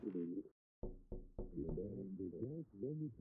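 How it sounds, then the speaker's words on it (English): Knocking on a window in a scary video game, a few sharp raps spaced out under a person talking over the gameplay. "No, that's a knock on a window."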